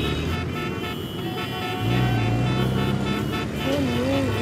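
Road traffic rumbles steadily while car horns toot in short, wavering blasts, loudest in the latter half, with voices faintly mixed in.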